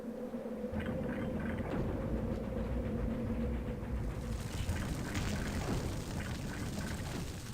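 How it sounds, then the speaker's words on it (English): A train running in the video game BLOOD: Fresh Supply, a steady loud rumbling and rattling roar that grows harsher and hissier partway through, with no talk. "I must stop this train."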